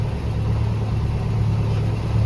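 MTZ tractor engine running in snow, a steady low idling drone with a constant rumbling hum, close and continuous, with no voices.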